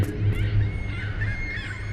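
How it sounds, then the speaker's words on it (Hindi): Crows in The Lightkeeper game give a few harsh, honking caws in quick succession over a low steady background hum, fairly near, with no speech. "वैसे और कौवों की आवाज आ रही है।"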